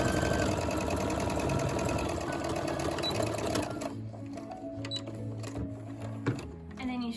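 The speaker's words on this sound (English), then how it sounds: "let's take this to the sewing machine" A sewing machine stitches a straight line along the fabric band of an elf hat, a rapid mechanical chatter for several seconds that then eases into slower, lighter clicking with a voice nearby.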